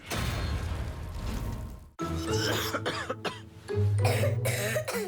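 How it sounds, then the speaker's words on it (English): A series of harsh, phlegmy coughs from one person, close and loud: a long bout, a brief pause, then more coughing and throat clearing. "When coughing keeps your family awake"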